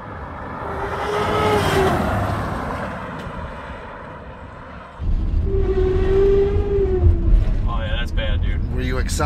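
A broken tow van drives and accelerates, its engine droning with a low harmonic tone that swells louder at about five seconds, with people talking over the vehicle noise throughout.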